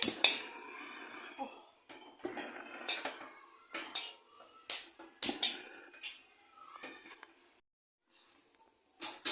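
Metal cookware clanks and knocks in a series of scattered, fairly close bumps, like a pan being set down and shifted on a stove.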